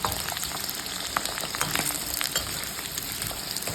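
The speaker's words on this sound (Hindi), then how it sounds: "मेरे फ्राई हो रहे हैं बैंगन" Eggplant pieces for a stuffed potato-and-eggplant dish fry in hot oil, giving a steady, close crackling sizzle with small pops throughout and no talking.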